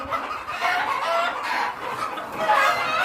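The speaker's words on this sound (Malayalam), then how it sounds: "ഈ കോഴികളൊക്കെ നോക്കണം," Native chickens on a farm in Qatar, with hens clucking steadily at close range and a rooster's crow rising near the end.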